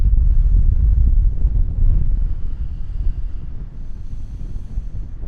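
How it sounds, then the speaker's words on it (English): Strong wind buffets the microphone at the Quiraing in Scotland, a loud, rumbling, gusting roar with no pauses. "clearing up, but it's still very windy."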